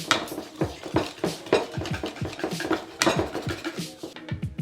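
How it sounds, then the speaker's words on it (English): A utensil mixing vegan pumpkin spice donut batter in a bowl, rapid rhythmic scraping and clinking against the bowl, close and continuous, without speech. "we're gonna mix all this together"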